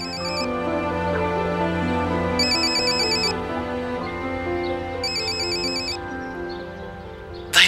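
A telephone ringtone sounds in three repeated electronic bursts about two and a half seconds apart over a steady tonal background, with a short louder knock at the very end.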